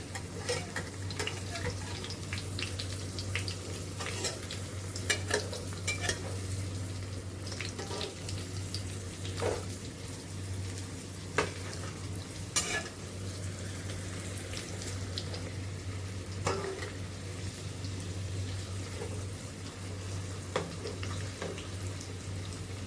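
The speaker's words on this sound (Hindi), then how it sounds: "हमें अपने मिर्च को घी में फ्राई करना है।" Besan-stuffed green chillies frying in ghee, a steady close sizzle with a low hum underneath, punctuated by occasional sharp clicks and taps throughout.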